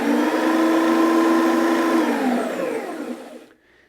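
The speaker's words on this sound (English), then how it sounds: "when I switch it on, the brushes will contra-rotate in on themselves" A Sebo Duo carpet cleaning machine runs its contra-rotating agitator brushes with a loud steady motor whine that spins down and fades out near the end.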